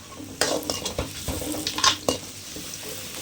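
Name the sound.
frying ginger garlic paste in a pan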